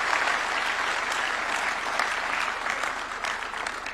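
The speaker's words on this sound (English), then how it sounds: "A round of applause for her." Sustained applause from an audience at a State House awards ceremony, a dense steady patter of many hands at moderate distance, with no talking over it.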